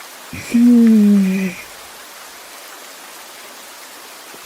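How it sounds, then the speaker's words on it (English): Soothing rain falls in a video game as a soft, even hiss that continues alone throughout, with a brief low tone sounding near the start. "The sound of soothing rain."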